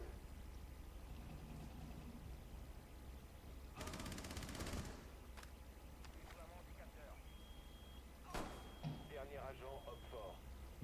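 Gunfire in Rainbow Six Siege: a short burst of rapid automatic shots, then a few isolated thuds and clatters over a quiet game ambience, with no talk.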